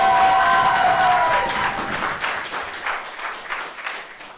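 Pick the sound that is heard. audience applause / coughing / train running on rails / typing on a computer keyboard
audience applause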